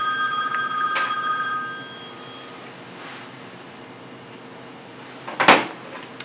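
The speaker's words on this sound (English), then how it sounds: "They even give you spam phone calls when you're doing demos." A telephone rings with a spam call during a painting demonstration, giving a bright electronic trill for about two seconds before the room goes quiet, followed later by a single soft knock.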